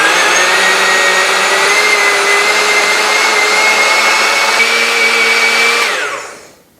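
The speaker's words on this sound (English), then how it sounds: "I'm going to put it on high and go for what my blender calls smoothie option" A blender whirs loudly on its high smoothie setting, mixing cheese-chive popover batter in a steady, tonal motor drone that holds evenly before spinning down and stopping near the end.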